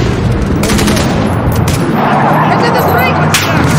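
Heavy gunfire in Call of Duty: Modern Warfare, with rapid overlapping shots and booming reports forming a loud, continuous barrage, plus sharp cracks standing out near the end.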